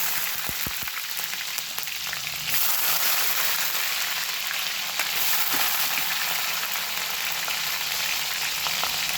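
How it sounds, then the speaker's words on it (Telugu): Onions and green chilies fry in hot oil for a chicken fry, a dense, loud, continuous sizzle that jumps in intensity a few seconds in and holds steady with no talking. "ఇప్పుడు నూనె పెట్టి, నూనె కాగింది. ఇక ఉల్లిగడ్డలు,"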